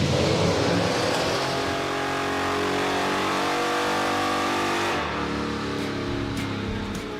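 The Crusher Impala's engine revs hard on a chassis dyno, a loud, sustained roar that holds steady for several seconds before shifting tone near the end.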